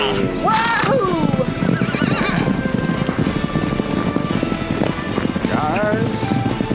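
Horses whinny and neigh loudly over rapid galloping hoofbeats in a Western-themed sketch comedy scene, with people whooping and shouting throughout.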